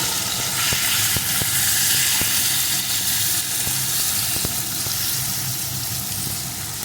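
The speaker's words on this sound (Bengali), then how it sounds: "এখন মাছগুলোকে এপিট করে একটু ভেজে নেবো" Small local fish coated in turmeric frying in hot oil in a pan, a steady loud sizzle throughout with occasional light clicks as the pieces are turned.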